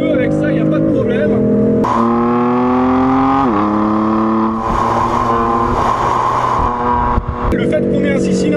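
A BMW six-cylinder twin-turbo diesel car accelerates hard, its engine rising in pitch through the gears with clear shifts, loud and close, as someone talks over it.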